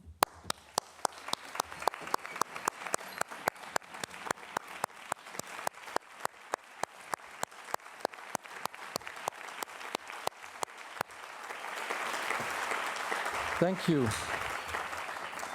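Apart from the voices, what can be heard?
audience applause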